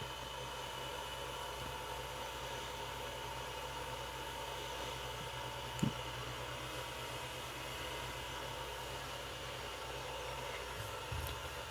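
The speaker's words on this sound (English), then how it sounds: "my neighbor is getting their trash picked up" A garbage truck collecting a neighbor's trash outside, heard from indoors as a steady, faint mechanical rumble and broadband hiss with a brief knock partway through.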